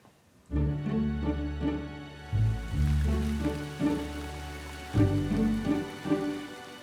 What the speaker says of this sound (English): But it's been raining all month.